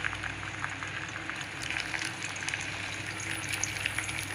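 Cut okra tipped into about 50 ml of hot oil in a pan, giving a steady, close frying hiss and bubbling with light crackles throughout, no voices.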